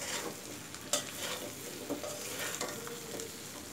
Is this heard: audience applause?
no